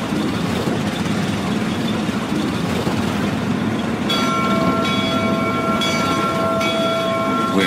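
Disneyland Railroad train running along its track near Tomorrowland, a continuous loud rumble and rattle of wheels and cars, with a steady high bell-like tone joining partway through.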